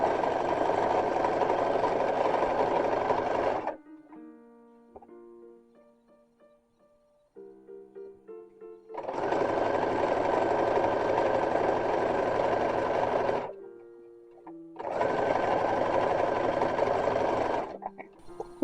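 A sewing machine stitching dress fabric, running in three long continuous bursts with quieter pauses between them.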